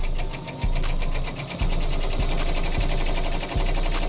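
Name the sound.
embroidery machine stitching a sew out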